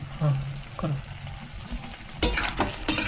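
Lemon pepper chicken stirred in a pan over a full gas flame, steady sizzling with scraping strokes, growing louder and brighter near the end, no talk.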